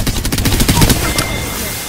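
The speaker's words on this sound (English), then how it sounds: "I'm taking shots" Rapid automatic gunfire in the Apex Legends video game, played on PS4 with the character Wraith, rattles out in dense, loud bursts for about a second, then trails off into a fading echo.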